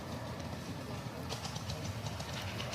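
A model train runs along a garden railway at a club layout, giving a steady low rumble and faint rhythmic clicking of wheels over rail joints, close by and continuous with no voices.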